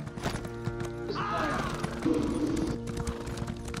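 A horse clip-clops in an online PvP game, hooves thudding rhythmically under game effects, with a whinny and a brief ringing tone partway through.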